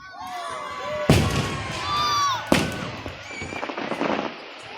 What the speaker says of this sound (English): they're apparently doing a fireworks show here